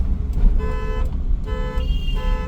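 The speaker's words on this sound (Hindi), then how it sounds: "फिर आपने देखो लगातार 3-4 बार लगातार हॉर्न दे दिया।" A car horn honks three times in a row, loud and close, over the low rumble of an engine and road noise in bumper-to-bumper city traffic.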